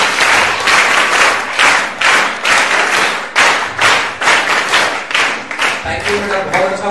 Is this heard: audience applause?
yes